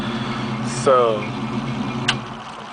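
Steady low idle of a 1967 Ford Mustang engine running close by, with a brief spoken word over it and a short click near the end.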